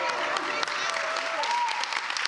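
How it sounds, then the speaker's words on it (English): Steady crowd applause at a startup showcase, dense clapping filling the whole stretch with a voice faintly audible beneath it. "Y'all keep that applause going for Miss Mycia Edens."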